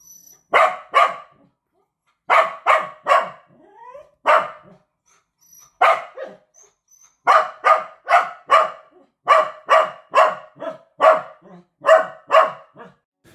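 A newly adopted dog barks over and over indoors, loud close bursts of two or three barks separated by short silences, with no other sound.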